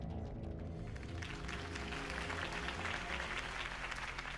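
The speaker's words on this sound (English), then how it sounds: "If only Mr. Wayne, my campaign's largest backer, could have heard that applause" Applause from a crowd after a campaign speech in the Batman Telltale video game, a dense, steady patter of many hands clapping, fairly quiet and sustained without talk.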